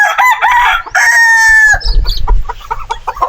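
Native chicken on a farm, a loud close rooster crow stretching over nearly two seconds, then clucking and scuffling sounds up close, with no talking.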